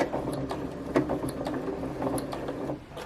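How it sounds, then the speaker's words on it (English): A sewing machine running a locking stitch to sew a button onto bunting binding tape, a quiet rapid mechanical whirr with soft ticking clicks, close by and fairly faint. "So my machine does a locking stitch first of all, and then it swings over to the right"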